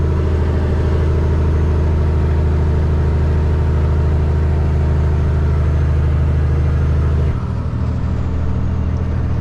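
A heavy loaded manual truck's engine rumbles steadily at close range going down a steep grade, a deep continuous drone that shifts and drops in tone near the end.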